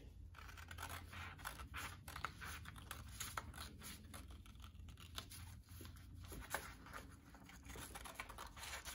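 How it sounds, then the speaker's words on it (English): Scissors cut along the bottom of a paper strip for a paper weaving craft, giving soft, steady snipping and scratchy rustling that runs continuously and close up, with no talking. "So I'm just going to cut along the bottom of this last strip."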